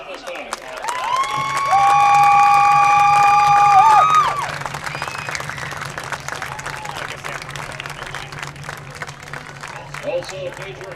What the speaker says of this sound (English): Let's give all of them a round of applause at this time.